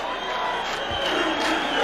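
Vasco supporters roar in the stadium after a 3-3 equaliser in the Copa Mercosur 2000 final against Palmeiras, a dense, steady crowd noise with a brief low thump near the middle.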